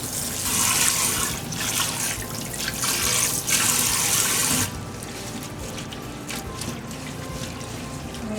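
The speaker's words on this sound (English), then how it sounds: "Now the next step would be to wash the dasheen bush leaves with lime." Dasheen bush leaves are washed by hand with lime in a bowl of water, giving steady close splashing and running water, louder for the first half and then softer and continuous.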